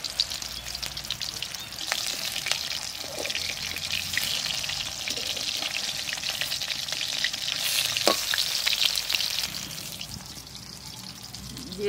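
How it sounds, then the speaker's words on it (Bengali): Chital fish muitha frying in white oil in a wok, a dense, close crackling sizzle that holds steady throughout, with occasional stirring clicks and a brief sharper pop near the end. "এবার ওই মুঠে ভাজার জন্য সাদা তেল দিচ্ছি কড়াইতে সামান্য তেল দিয়ে ভেজে নেব"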